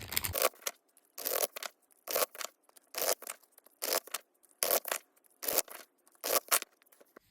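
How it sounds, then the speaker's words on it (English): Tarot cards shuffled by hand in repeated bursts, about eleven quick riffling rustles spaced evenly with short silent gaps between them, close and fairly quiet. "So I'm going to go ahead and shuffle."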